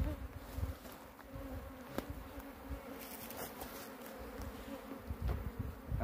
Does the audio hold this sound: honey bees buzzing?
yes